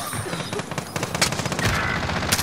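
Rapid automatic bursts from a PPSh submachine gun in Call of Duty Warzone on Rebirth Island, loud and close, with dense overlapping shots and other gunfire around it.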